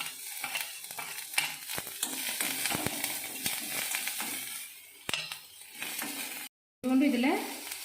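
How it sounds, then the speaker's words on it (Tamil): Garlic sizzles in hot oil while a spoon stirs it in the pan, a close, steady crackling hiss with scraping strokes, broken by a brief dropout before the frying resumes louder. "ஃபஸ்ட்டு பூண்டு போடலாம். போட்டு அதை லைட்டாக ஒரு இது பண்ணிவிட்டு வதக்கி விட்டுட்டு"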